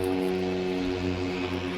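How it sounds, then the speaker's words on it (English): An airplane flying overhead toward an island: a steady, droning propeller hum with even tonal layers, continuous and moderately loud, with no talking. "There's a lot of planes going over to the island today."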